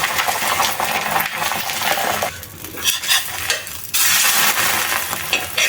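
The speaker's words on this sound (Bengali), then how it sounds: "আমি এখানে একটা ডিম দিয়ে দুটো ভেজে নিচ্ছি।" An egg sizzles in hot oil in a frying pan, with a steady crackling fry punctuated by scraping and clinks of a spatula, loud and close with no talking.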